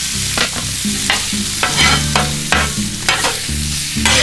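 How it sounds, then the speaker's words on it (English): Deer steak sears on a 28-inch griddle with a loud, continuous sizzle, broken by repeated scraping and clinking strokes of a spatula at a fairly regular pace. "Just an instant sear on the steak"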